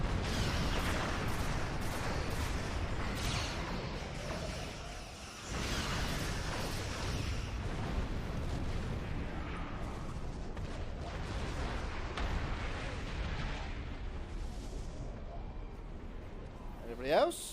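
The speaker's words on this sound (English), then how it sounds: "Man, I love those torpedoes I got." Starship torpedo fire and explosions in the space game Star Trek Online, a dense, continuous wash of booming blasts and rumbling impacts with crackling bursts, a sharp rising tone near the end, and a voice talking over the battle.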